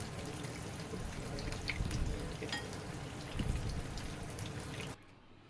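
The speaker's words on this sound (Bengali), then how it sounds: "সবকটা মাছ তেলের মধ্যে দিয়ে দিয়েছি" Rohu fish pieces sizzle in hot oil in a pan, a faint steady crackle and hiss with scattered pops, ending abruptly.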